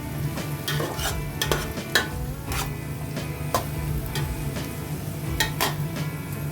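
Grated beetroot and carrot frying in a pan, with a constant sizzle under frequent scraping and clinking from a spatula stirring against the metal, close and fairly loud.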